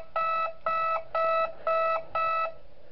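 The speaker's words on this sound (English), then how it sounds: "I actually find it weird that the alarm sounds like an alarm clock and not an actual alarm." An alarm-clock style alarm beeps in the video game Five Nights at Wario's, five evenly spaced, loud electronic tones in a regular rhythm with no talk over it.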